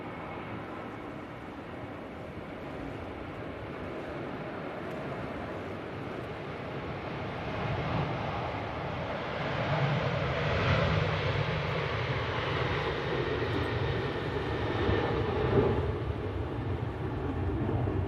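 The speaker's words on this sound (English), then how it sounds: "the Ryanair at the bottom is now spooling up" Ryanair jet spooling up for takeoff at Manchester Airport during Storm Ashley, a broad roaring engine rumble that swells louder about halfway through and holds steady, mixed with gusting wind noise.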